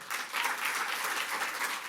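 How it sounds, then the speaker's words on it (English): An audience applauds warmly for classical dancers after a Jain-themed Ramayan stage show, a dense, steady round of clapping throughout. "a big round of applause for our beautiful classical dancers, Riddhi Mittal"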